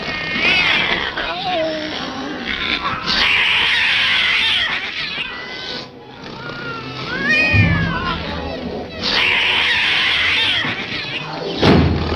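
Domestic cats caterwaul in loud, drawn-out rising and falling yowls, several bursts spaced across the scene with brief pauses between, over a dim indoor background.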